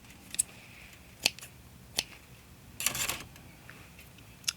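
Scissors snip material for a matchbox bingo ornament in a quiet room, with several sharp isolated cuts spaced apart and a brief busier run of snipping near the middle.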